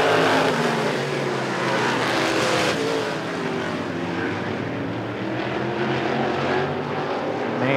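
Race cars roaring around the short oval at Rockford Speedway during a heat race, a loud, continuous engine drone with rising and falling revs as the cars pass close by, with no talk over it.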